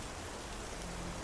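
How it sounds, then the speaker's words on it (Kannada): Steady wind-driven rain on a monsoon night over a garden plantation, a dense even hiss of downpour with low rumbling gusts, continuous and unbroken throughout. "ಗಾಳಿ ಮಳೆಗೆ ಮರಗಳು ಅಪ್ಪಳಿಸುತ್ತಿದ್ದವು"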